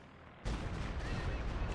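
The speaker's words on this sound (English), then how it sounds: "More rocket artillery." A sudden heavy boom from rocket artillery in a World War II strategy game, followed by a dense, rolling rumble of explosions that fills the rest of the moment.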